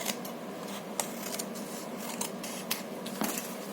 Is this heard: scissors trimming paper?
yes